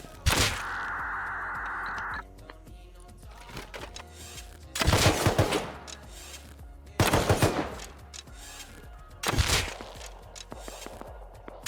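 Video game gunfire during a multiplayer wipe, loud bursts of rapid automatic shots in three or four clusters separated by brief gaps, close and punchy, with no talking.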